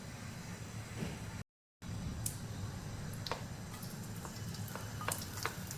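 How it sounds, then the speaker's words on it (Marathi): Greens with spices hiss in hot oil in a pan, a steady close sizzle broken by a brief dropout and a few sharp pops and stirring clicks, with no talking. "चला तर भाजी परतून घेऊया"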